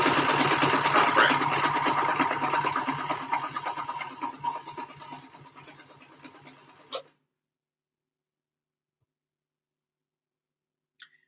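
A domestic sewing machine runs steadily stitching stretchy leotard fabric for about seven seconds, loud and continuous with a mechanical whir, then stops abruptly, leaving near silence with one faint click at the end.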